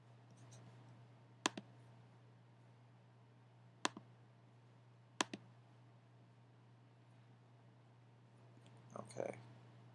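Three sharp mouse clicks on a computer while exporting tax records to Excel, each a crisp double click spaced a couple of seconds apart over a steady low hum, with a brief rustle near the end.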